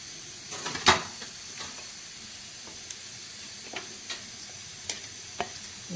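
Cumin seeds sizzle in hot oil with a couple of cloves in the pan for a sprouted green gram curry: a steady, soft hiss broken by one sharp crackle early on and a few faint scattered pops, with no talking.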